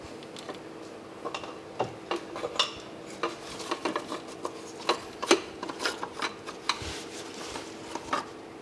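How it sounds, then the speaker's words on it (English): Oil filter being worked out of an Audi Q3 2.0 TDI, a string of light metallic clicks, taps and scrapes at close range with irregular spacing, no talk. "So now that we've drained the oil, we can get the oil filter out of there."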